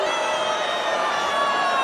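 A women's college volleyball crowd in an arena groans and jeers in loud, sustained disapproval, a continuous roar of many voices filling the space.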